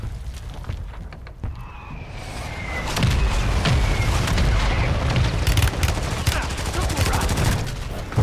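Explosions and gunfire in a shooter video game: a booming blast followed by a sustained roaring rumble with crackling shots layered over it, loud and close.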